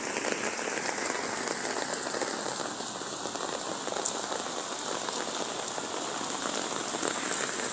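Heavy rain pours down in Bagumbong, Caloocan, drumming on surfaces with a thick, continuous hiss and patter that holds steady throughout, with no one speaking.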